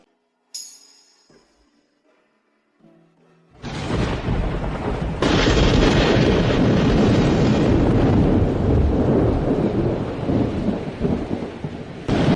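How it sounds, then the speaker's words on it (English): Heavy rain pours down loudly and steadily with deep rumbling thunder rolling through it, building from quiet to a dense, constant roar that stays close and full for most of the stretch. "It's finally raining."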